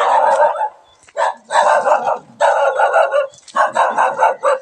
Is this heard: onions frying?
no